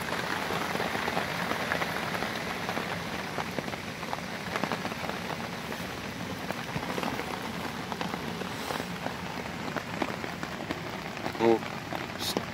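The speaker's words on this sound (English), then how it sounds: "I took a little short clip with my phone of the rain" Heavy rain during a night storm at a carp fishing camp, pattering steadily on a bivvy shelter, a dense continuous hiss of drops close by with no pauses over the whole stretch.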